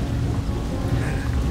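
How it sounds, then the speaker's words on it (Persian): Steady rain falls outdoors on a city street during a walk in rainy weather, a dense, continuous hiss and patter with no break and no voices. "اینجا بارون میاد."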